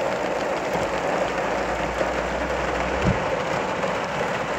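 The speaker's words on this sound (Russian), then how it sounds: "Вот такой дождь." Steady rain pours down outside a car parked near Paris, a dense continuous hiss with a brief low thump around the three-second mark.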